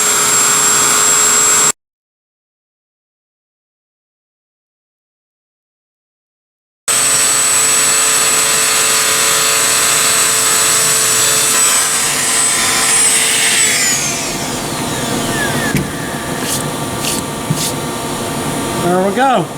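Steady high-pitched whine of a small rotary tool with a little round bit engraving a wooden gun stock, running close and continuously after a short silent gap, with a voice talking under it.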